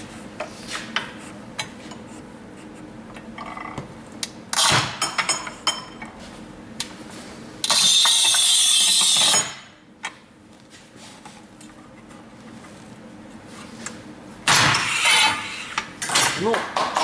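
A manual tile cutter (Rubi FAST 85 or Stark MTC 1000) scores a 12 mm porcelain stoneware tile, with a loud sustained rasping pass and shorter scraping strokes, plus clinks and taps between them.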